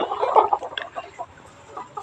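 Chickens in a caged poultry farm house clucking in a steady scatter of short, overlapping calls, fairly close, with no talk.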